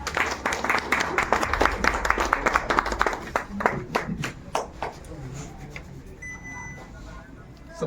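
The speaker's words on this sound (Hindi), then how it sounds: "तालियों के साथ।" An audience at a New Year celebration breaks into dense, loud applause that gradually thins out into scattered claps, with a few faint electronic beeps near the end.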